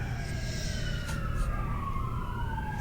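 A siren wails outside at dusk, its pitch sweeping slowly up and down at moderate distance over a steady low rumble of traffic.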